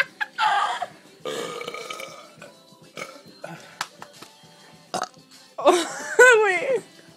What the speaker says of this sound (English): we're gonna do a biggest belch contest